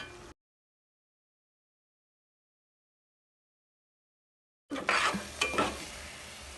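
Fish curry (chapala pulusu) in a pan as turmeric, chili powder and salt are stirred in, a short burst of scraping and soft sizzling that starts only after a long stretch of silence.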